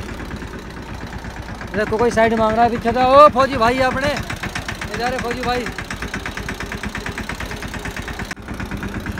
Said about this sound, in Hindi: ट्रैक्टर पे ही हूँ।